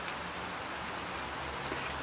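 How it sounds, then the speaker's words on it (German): Heavy rain falls steadily around a shelter hut in Frankfurt's city forest, a dense, even hiss of drops that continues for the whole stretch with no voices. "obwohl es vom Himmel hoch regnet"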